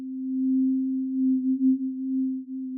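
A synthesized sine oscillator from Ableton Live's Roar plays a single sustained note with detuned swarm motion, so the pitch warbles gently and the level swells and dips, clean and alone for about three seconds.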